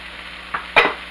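Sliced chicken, seasoned with salt and pepper, cooks in a pan for a cheese steak, giving a soft steady sizzle with two short stirring bursts, close and alone.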